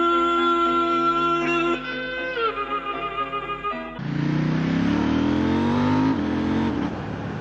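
A KTM Duke 790 motorcycle engine climbs through the revs with a tonal whine, drops back briefly, then surges loudly and keeps accelerating hard close to the microphone.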